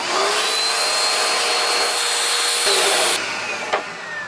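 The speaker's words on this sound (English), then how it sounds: "Suck it out with the vacuum." A vacuum sucks debris out of a part of a 1983 Evinrude 25 HP outboard motor, a loud steady whooshing roar close to the mic that shifts pitch slightly as the nozzle moves, then eases off near the end.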